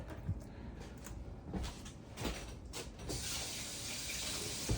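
Tap water rinsing crab claws at a kitchen sink: a steady, close hiss of running water fills the last part, after a few soft knocks and clunks.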